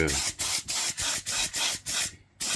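Short airbrush bursts misting thinned paint onto a Tamiya FAV model kit, about eight evenly spaced hissing pulses separated by brief pauses, close and steady, with no talking.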